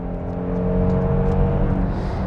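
Kia Carnival minivan engine pulling hard in sport mode, a steady loud drone with layered harmonics that holds the gear and swells slightly as it accelerates, with no talking.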